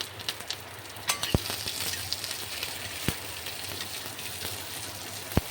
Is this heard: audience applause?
no